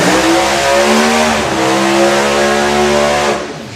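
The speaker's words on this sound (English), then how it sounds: "Let's let Michelle do his burnout." A drag racing car doing a burnout at a national finals meet: loud, sustained engine roar with screeching tire noise, steady for several seconds before easing off at the end.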